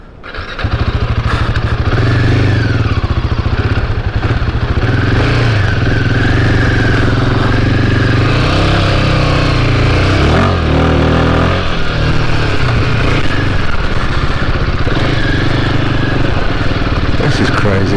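A Royal Enfield Himalayan motorcycle engine thrums steadily while being ridden on a mountain road, loud and close throughout, with the rider's voice mixed in.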